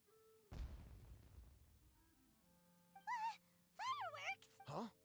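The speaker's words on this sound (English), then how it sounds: "It sounded like fireworks." Fireworks going off in the video game Genshin Impact: one sharp boom followed by a decaying crackling rumble, then quieter background sounds with several voiced character exclamations over the top.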